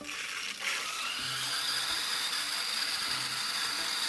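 Water rushes steadily through a water softener's control valve as the inlet valve is slowly opened, a continuous hiss with a faint mechanical click near the start and low hum beneath.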